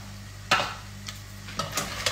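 Octopus browning in a pan with chili and paprika gives a soft sizzle, broken by a few sharp scrapes and clinks of stirring at irregular intervals.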